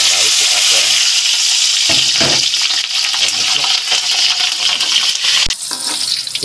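Halved curly red chilies fry in hot oil, a loud, steady sizzle running throughout with brief stirring clatters and a sharp knock near the end.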